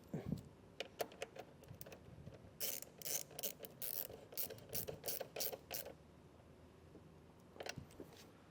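A ratchet tightens a nut back onto a large battery ring terminal for a towed-vehicle charge line, giving close, quiet bursts of rapid clicking in several runs with short pauses between.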